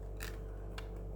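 Scissors cutting a rough outline of a paper doll, two quick crisp snips about half a second apart, close and fairly quiet over a low steady hum.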